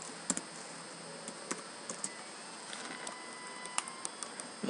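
Fairly quiet typing on a computer keyboard, with irregular light clicks and taps scattered over a faint steady background hum.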